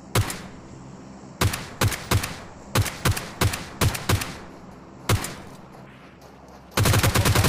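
Sniper and rifle gunfire in PUBG Mobile, a series of sharp, loud single shots spaced irregularly, ending in a dense burst of rapid fire.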